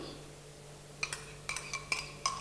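Chopped onion, 1.5 cups of it, is tipped into a mixing bowl, giving a handful of soft, quiet clinks and taps scattered over a couple of seconds against a faint room hum.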